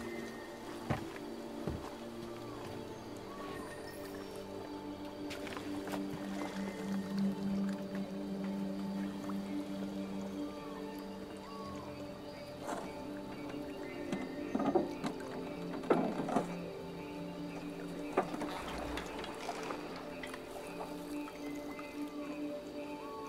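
A slow boat ride across calm water in the video game Detroit: Become Human, with gentle lapping, dripping and soft splashes, quiet ambient hum and occasional creaks, no voices.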